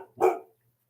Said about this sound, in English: Sorry, dog barking.